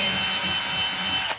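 A power drill bores a hole through a plastic car grill on an Audi A5, a close steady high whine lasting just over a second before it cuts off sharply.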